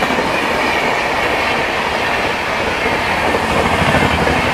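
An overtaking Howrah Rajdhani Express roars past loud and steady, with a constant rumbling rush and wheel clatter filling the whole stretch; no voices are heard.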